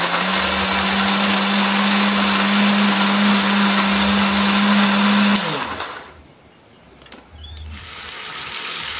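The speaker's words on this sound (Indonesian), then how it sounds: "Tambahkan bawang merah, bawang putih, kita blender." A kitchen blender whirs steadily while grinding curly red chilies, shallots and garlic, a loud continuous motor whine that cuts off partway through and leaves a softer hiss.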